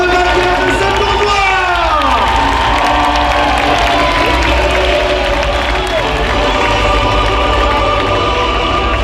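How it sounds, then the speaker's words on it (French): Crowd cheering and clapping for the winner of a medieval jousting tournament at an outdoor festival, loud and continuous with shouts and whoops and voices mixed in. "des acclamations que je vais avoir maintenant pour le vainqueur de ce tournoi!"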